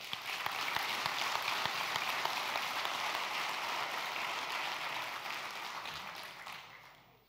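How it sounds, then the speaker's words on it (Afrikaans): A church congregation applauding during an Easter service, a dense sustained wash of clapping from many hands that holds steady and gradually fades out. "kom ons gee 'n applous daarvoor in Jesus se naam"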